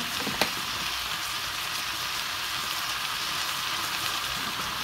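Leeks cook in a pan with a little added water over lowered heat, giving a soft, steady sizzle and bubbling throughout, with one brief tap near the start.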